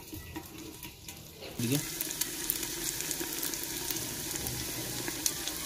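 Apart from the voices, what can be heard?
ginger and garlic frying in a pan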